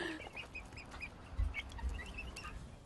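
Several backyard chickens cluck and murmur close by, a busy run of short repeated calls with a couple of low thumps, no talking over them.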